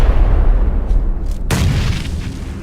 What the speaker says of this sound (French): Il envoie une grenade, il envoie une grenade.